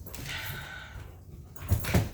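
Pet dogs at home whimper with thin whining cries, then give two sharp yips that come near the end, close by and fairly loud.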